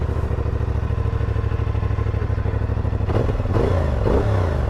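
A KTM two-cylinder motorcycle engine idles close by with a steady, lumpy rhythmic putter, then blips briefly near the end.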